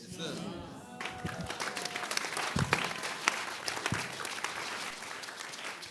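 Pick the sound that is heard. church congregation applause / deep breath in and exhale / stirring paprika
church congregation applause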